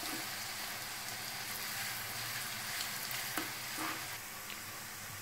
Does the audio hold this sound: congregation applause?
no